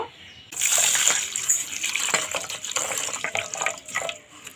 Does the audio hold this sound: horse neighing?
no